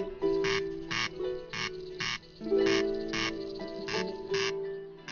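Corncrake, a rare crofting-land bird sheltering among nettles, giving its rasping call: a repeated two-part grating crake with steady rhythm, fairly close and clear, though a low tonal hum runs beneath it.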